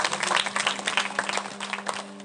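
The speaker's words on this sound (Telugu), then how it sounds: "చప్పట్లు కొట్టి దేవుని మహిమపరచండి." A church congregation applauding during a New Year sermon, a dense, crowded burst of many hands clapping at once, loud and sustained for a couple of seconds with no one speaking over it.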